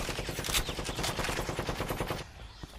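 Rapid automatic gunfire in the mobile first-person shooter Blitz Brigade, with dense bursts of sharp shots fired in quick rhythmic succession that ease off near the end.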